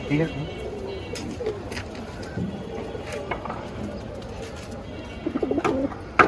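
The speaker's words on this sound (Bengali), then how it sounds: "এখানে এখন সব মাদি সব মাদি কবুতর আছে" Soft, low cooing of female pigeons in a cage repeats through steady background noise, with a person speaking nearby.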